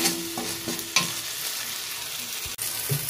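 Spices cooked down with tomato ketchup on a low flame give a steady close sizzle, with a spatula scraping and stirring through the pan and a couple of sharp knocks.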